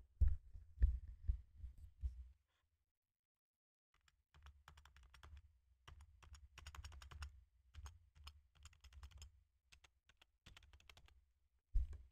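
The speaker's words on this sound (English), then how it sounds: "this is what my keyboard sounds like" Keys clatter on a mechanical computer keyboard in bursts of quick, close taps, with a pause in the middle before the typing resumes and fades out near the end.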